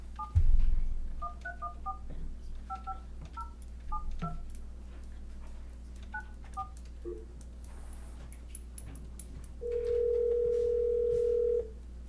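A phone dials out for a call at a school board meeting: a quick run of touch-tone beeps in irregular clusters, then quiet room noise and a single long ringback tone near the end.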